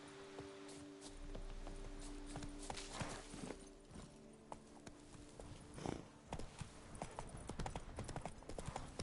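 Hooves of the horse Roach clip-clopping in The Witcher 3: Wild Hunt, a steady walking rhythm over a bed of outdoor ambience and faint rustling, fairly quiet and steady with no clear voice.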